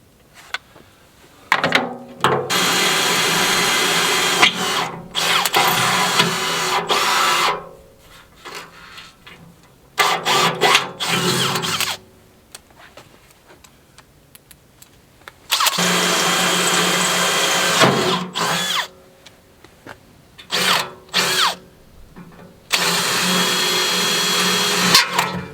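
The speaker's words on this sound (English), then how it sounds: "let me get my pilot hole bit set up, and then we'll start the drilling" A power drill whines through steel while drilling a 5/32-inch pilot hole, in several long bursts separated by short pauses, loud and close, with brief stops and restarts between runs.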